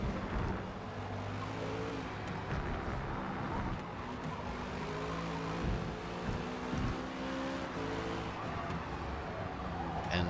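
Race cars, including a Ferrari, roar around a circuit in Forza Motorsport during a community race, with engines droning continuously and loudly, pitch shifting through gear changes and cars passing, and no voices over them.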